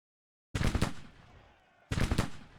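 Battle gunfire from the Civil War strategy game Grand Tactician: two loud, close volleys of crackling rifle fire about a second and a half apart, each with a ragged burst that fades into a lingering rumble.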